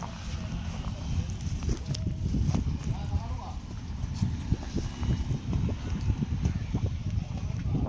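Hooves clop steadily on hard ground as bullocks walk past, with people talking nearby over the shuffling steps.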